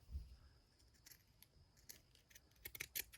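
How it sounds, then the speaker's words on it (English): Scissors snip through felt fabric in a series of crisp, quiet cuts, clustering faster toward the end, heard alone up close. "I also love the sound of, you know, like the scissors cutting the fabric."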